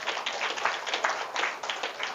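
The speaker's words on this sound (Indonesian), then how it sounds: "Nah, tepuk tangan." Crowd applause from an audience at an Indonesian religious talk, a steady wash of many hands clapping at moderate distance, lasting a couple of seconds with no voices over it.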